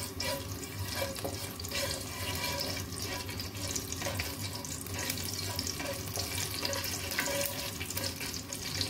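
Steady crackling sizzle of cloves, cardamom and cinnamon frying in hot ghee, close and continuous, with faint clinks now and then and no voices.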